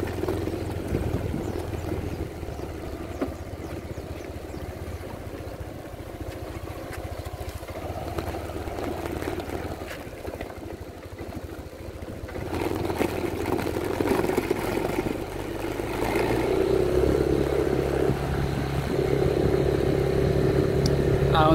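A Yamaha NMax scooter engine labors up a rough mountain road, droning steadily and then growing louder and rougher as the revs climb in the second half, with faint talk at times.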